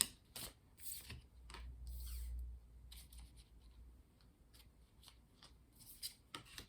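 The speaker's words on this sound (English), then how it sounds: "we're going to keep shuffling" Quiet, close-up tarot card shuffling: soft riffles and sharp papery flicks in irregular bursts, with a low hum underneath.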